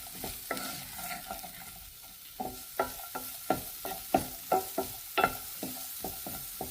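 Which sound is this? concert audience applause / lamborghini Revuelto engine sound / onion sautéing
onion sautéing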